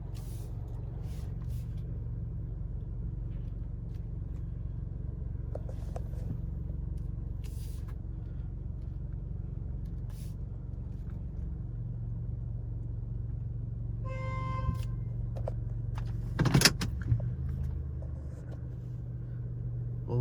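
A Mark VII Aquajet XT touch-free car wash at Surfside Car Wash runs with a steady, low mechanical hum and hiss, heard from a short distance, with a brief louder spray or air burst near the end.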